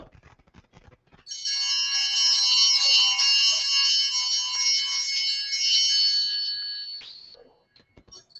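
Bells ring in a steady, loud, continuous shimmer for about six seconds during the Glory to God at Mass, then fade away, with only faint sounds before and after.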